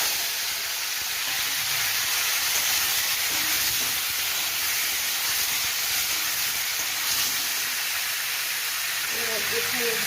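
Chopped tomato hisses and sizzles loudly in hot oil with dried chilli and mustard seeds, a steady, close, unbroken frying noise that fills the whole stretch.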